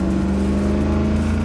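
A hand-built Swedish supercharged car holds a steady, loud engine drone with a strong low hum from inside the cabin, heard alone.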